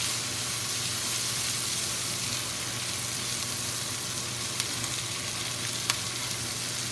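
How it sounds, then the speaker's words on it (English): Beef brisket sizzles steadily in a little olive oil in a hot pot while being stirred, a continuous close frying hiss with a couple of faint clicks and no talking. "Give it a quick stir."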